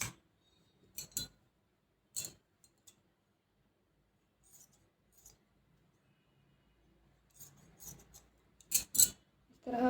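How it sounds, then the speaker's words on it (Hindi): Scissors snipping through fabric while cutting out a frock, crisp separate clicks and slices in short bursts with quiet pauses between, close to the microphone. "ऊपर से भी इस तरह कटिंग कर लेंगे।"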